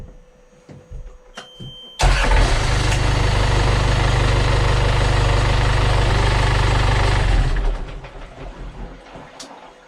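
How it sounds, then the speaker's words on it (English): A sailboat's inboard engine cranks and catches at once, then runs loud, steady and close for about five seconds before cutting back, with no throttle applied. "Try it. Try cranking it."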